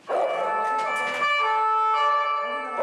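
A police siren wails during a raid on a hangar, a steady, loud, close tonal blare holding across the whole stretch with faint shouting around it.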